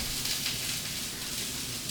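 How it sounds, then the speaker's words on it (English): Chopped onion sizzles in a hot pan for pancit bihon, a steady, dense hiss and crackle that holds evenly throughout with no talking. "Oh, yeah, that's hot. You hear that sizzle?"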